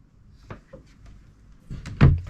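A cabin door aboard a 1993 President 485 yacht is pushed shut, a soft shuffle then a solid thud close by, with no talk.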